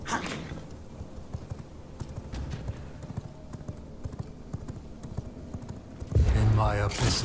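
Rhythmic clip-clop of horse hooves while riding in the vampire survival game V Rising, a steady trotting beat with game ambience, ending in a louder burst of effects.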